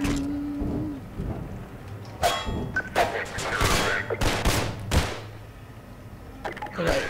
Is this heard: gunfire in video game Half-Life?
yes